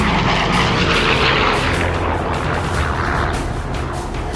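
A WWII bomber rolling over and diving nose straight down from 25,000 feet, a dense, loud engine and wind roar that holds steady and fills the whole clip with no talk.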